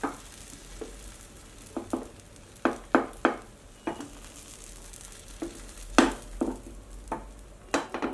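Beaten egg sizzles in a hot pan for a bread omelette, a steady fry broken by sharp clinks and scrapes of a utensil against the pan as it is swirled.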